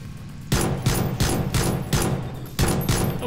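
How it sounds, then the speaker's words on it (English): Rapid gunfire in the PUBG battle royale game, several loud close bursts of automatic shots cracking one after another with short gaps between them, no talking. "are you shooting me?"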